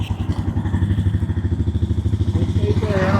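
A motorcycle fitted with a Moto Torque exhaust idles and runs close by, a loud, fast, even thumping beat that picks up slightly toward the end.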